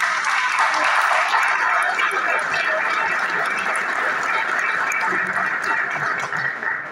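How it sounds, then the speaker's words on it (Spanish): Journalists at a press conference for a women's football team clapping in welcome, a sustained wash of applause that stays strong and tapers slightly near the end, with faint voices underneath. "me le brindaran un aplauso de bienvenida a estas señoritas"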